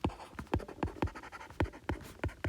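A math interval being written out by hand: quick, close pen or pencil strokes scratch across paper in an uneven rhythm of short bursts, quiet and with no voice.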